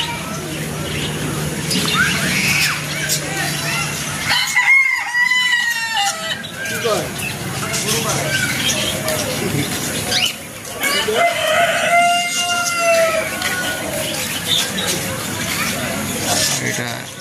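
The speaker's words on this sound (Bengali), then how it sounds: "মুরগি বিভিন্ন জাতের, ব্রাহ্মা" Chickens of several breeds, including Brahma, American and White Silkie, cluck around an eco resort, with a rooster crowing loudly twice, nearby, amid background chatter and a busy farmyard hubbub.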